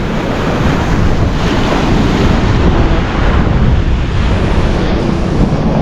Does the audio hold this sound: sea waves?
yes